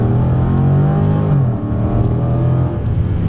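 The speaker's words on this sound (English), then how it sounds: "I'm going to go ahead and do another roll onto the gas here, let it shift automatically." A 2015 Dodge Challenger Scat Pack with a V8 accelerates under a steady roll of throttle, its loud, deep engine drone steady throughout, with a slight dip around mid-clip and another near the end as the automatic transmission shifts.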